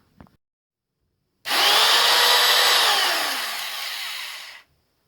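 A Katsu 01749 trim router with freshly repacked bearings starts up and runs alone at a loud, steady high-pitched whine for about three seconds, the pitch sagging slightly before it cuts off abruptly.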